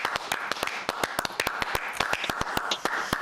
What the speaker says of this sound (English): We just all wanted to do our clap for carers